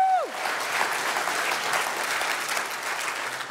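A welcome event audience breaks into loud, sustained applause, many hands clapping together in a dense, steady wash that fills the room after a short whistle at the start.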